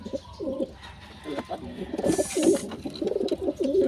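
Several pigeons coo close by in a rapid, overlapping series of soft throaty calls that continue throughout, with brief human talk mixed in.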